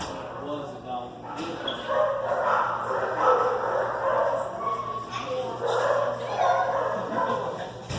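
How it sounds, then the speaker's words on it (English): Dogs yip, whimper and bark in a busy animal shelter in Oklahoma City, the animal noise continuous and mid-distance, mixed with people talking throughout. "Was a dog."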